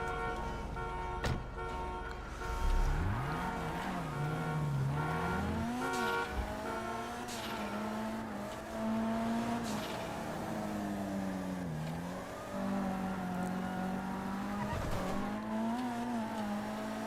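Car engine revving and tires squealing while driving in the Redline RP game, a continuous loud drone with shifting pitch and occasional skids, no talk over it.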